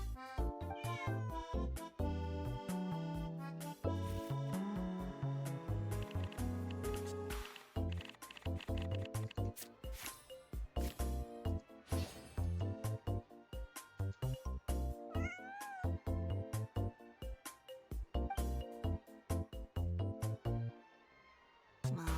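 A cat meowing in Genshin Impact, repeated mews and plaintive calls heard over game music that carries steadily, with brief gaps between the cries.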